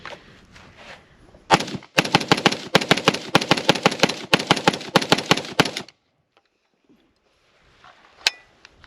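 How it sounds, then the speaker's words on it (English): Zastava M70 rifle firing 7.62x39 rounds outdoors, a fast, loud string of about twenty close sharp shots over four seconds, followed by quiet and a faint clack and one more sharp report near the end. "Fire,"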